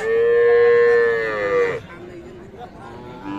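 A cow moos loudly and close at a cattle market, one long drawn-out low call, followed by quieter background murmur.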